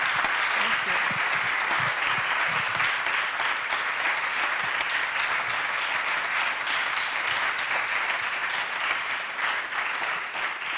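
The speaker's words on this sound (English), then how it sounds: "Let's give Erin a wonderful round of applause" Audience at a Clinton School talk applauding a speaker, a dense, sustained wash of clapping hands that stays loud and even throughout and fades slightly at the very end.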